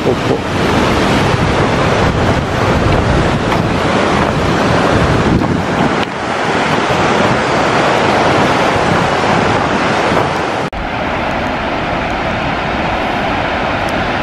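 Loud, constant roar of a mountain torrent rushing below the Ailefroide glacier in the Pelvoux valley, heard close and dense with wind buffeting the microphone, the level shifting slightly partway through.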